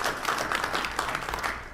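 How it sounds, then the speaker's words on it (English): Audience applause at an evening candidates' forum, a short burst of many hands clapping in a dense, even patter that tapers slightly at the end. "please join me in a round of applause for them"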